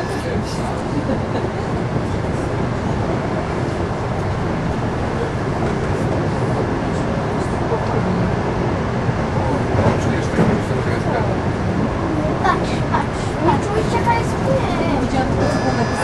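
ED74 electric train accelerating on rails: steady, loud, continuous rumble and rolling wheel noise with rhythmic clicking from inside the carriage throughout.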